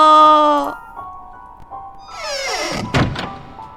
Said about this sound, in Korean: 이건 화장실 안 개별 칸막이 문이 닫히는 소리다